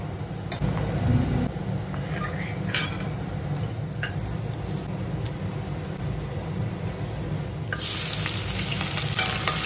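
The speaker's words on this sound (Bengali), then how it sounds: "তাই বড়িটাও ভেজে নিচ্ছি" Bori lentil dumplings fry in hot oil in a pan, a steady crackling sizzle that runs throughout, with occasional sharp pops and a brief clink of a utensil, then a brighter surge of sizzling near the end.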